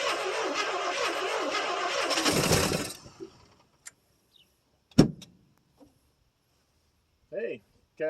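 A 1973 International 1110 truck with a 345 V8 cranks and catches on a cold start after years of sitting, roaring loudly and then dropping off, followed by scattered clunks and a pop through the exhaust.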